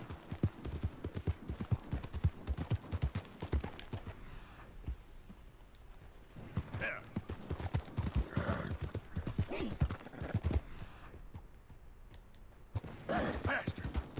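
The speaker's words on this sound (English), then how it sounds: "That, my friend, is what we refer to as a person on a horse, not an unknown animal." Horse hooves clip-clop steadily in the Red Dead Redemption 2 video game, a near rhythmic trotting with creaks and a brief whinny, under bursts of talk.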